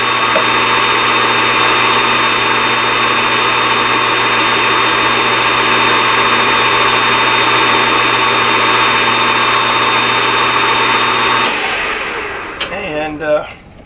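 A machine takes a heavy cut in Delrin plastic, giving a loud, steady mechanical drone with a constant whine that holds for about eleven seconds before cutting off and winding down.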